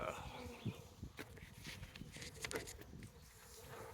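A low, faint buzzing of honey bees at a hive of a newly caught swarm hums throughout, with soft rustling and a few brief thumps nearby.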